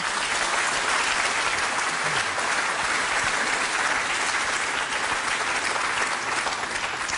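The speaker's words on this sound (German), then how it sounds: "Darf es auch gerne nochmal Applaus für alle geben." A studio audience in Mönchengladbach applauds after a televised state election debate: sustained, even clapping from a large crowd, loud and continuous for several seconds with no speech.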